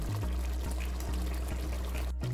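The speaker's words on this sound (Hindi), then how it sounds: "अब इसमें हम थोड़ा सा पानी लगा देंगे शोरबे के लिए" Water poured into a simmering chicken and potato kofta curry gravy in a cooking pot, a steady close pouring and trickling wash over low kitchen hum, no talking.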